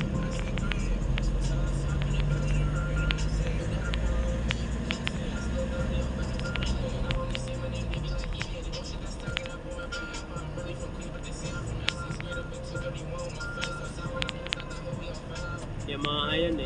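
Heavy road traffic in Los Baños, a steady low rumble of engines and passing vehicles heard from inside a moving car, with people talking over it throughout.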